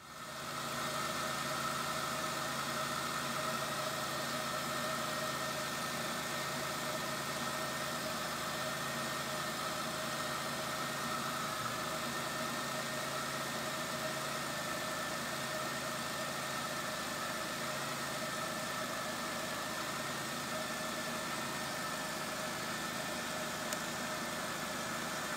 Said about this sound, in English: I'll go ahead and start the car here.